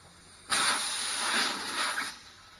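Air rushes out of a tire valve with its core removed, a sharp, loud, steady hiss lasting about a second and a half before cutting off.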